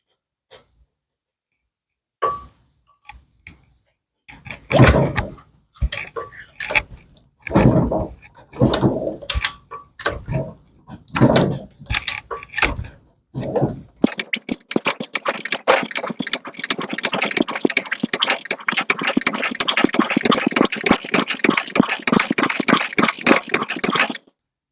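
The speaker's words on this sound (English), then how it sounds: "Now let's rotate the engine slowly." A 1971 Honda CB500 motorcycle engine, after sitting for 30 years, is turned over slowly by hand, giving irregular mechanical clicks and soft scraping bursts that build into a dense stretch of rapid ticking and rustle, close and fairly quiet.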